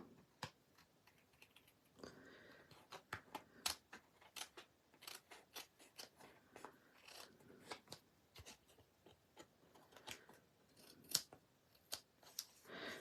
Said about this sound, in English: then I can go ahead and cut it out